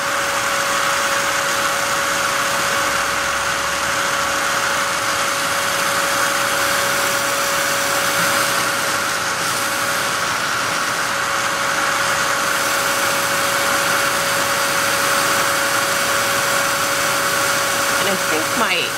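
A heat tool melting gold gives a loud, steady broadband blowing hiss with a constant tonal hum, unchanged and continuous for the whole stretch.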